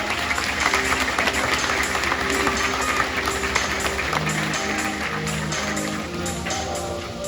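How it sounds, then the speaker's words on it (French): A crowd applauds steadily at a zoo sea lion show, a dense, continuous wash of clapping that holds for several seconds, with faint tones ringing in the background. "on peut les applaudir bien fort pour leur participation."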